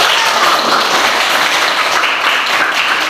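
Students in a classroom lesson clap together, producing a loud, continuous rush of hand-clapping with no pauses.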